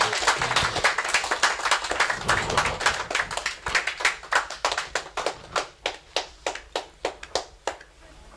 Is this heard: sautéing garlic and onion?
no